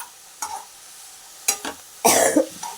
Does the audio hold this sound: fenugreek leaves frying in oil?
yes